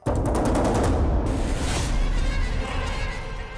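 A rapid string of firecrackers pops in a fast rattling sequence, then gives way to a loud, sustained roaring wash of bursting noise that slowly fades.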